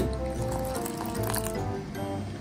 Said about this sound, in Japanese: お湯を注ぎまして